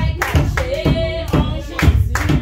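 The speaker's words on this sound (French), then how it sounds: "Acclamez, acclamez, acclamez, acclamez, acclamez." A church congregation claps along rhythmically to a French worship song, with steady hand claps under singing voices and a sustained tone.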